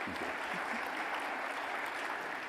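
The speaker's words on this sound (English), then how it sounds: "Big round of applause, please." Steady, dense applause from a conference audience, a continuous wash of clapping that holds at an even level throughout.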